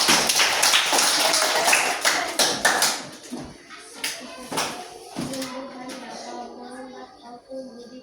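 Group applause in a classroom for a student group, a dense burst of many hands clapping for about three seconds, then fading into scattered claps and a few taps while children's voices talk over it.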